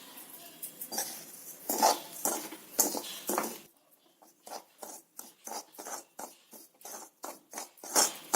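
Wheat rava semolina being stirred and roasted in oil in a pan, giving repeated scraping, rasping strokes of a spoon against the pan in an irregular rhythm, close and fairly quiet.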